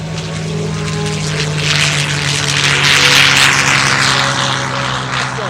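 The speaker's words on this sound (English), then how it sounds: "Stan Music got the controls of this beautiful P-51" A WWII P-51 fighter plane flies over the 2012 Tuscaloosa Regional Air Show, its propeller engine a loud, steady roaring drone that swells slightly and holds for the whole stretch, with no talk.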